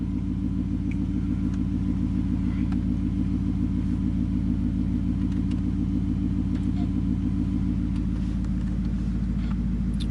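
A twin-turbo Ford F150 with a 10R80 transmission and stall converter holds high RPM on the trans brake, a loud, steady, dense engine rumble and drone that stays constant and close with no talk throughout.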